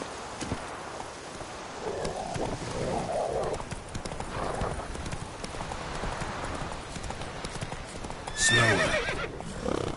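A horse gallops in The Witcher 3 with rapid, steady hoofbeats and neighs loudly near the end, close and continuous over a low background rumble, with no talk.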